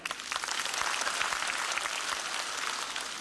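Stand-up comedy audience in Cantonese Hong Kong show clapping in response, a steady burst of dense applause lasting a few seconds, close and fairly loud.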